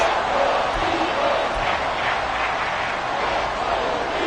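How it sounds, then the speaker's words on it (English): A loud football stadium crowd roars continuously, a dense sustained wall of noise as fans try to force a false start, with a commentator's voice in it. "This crowd trying to force a false start."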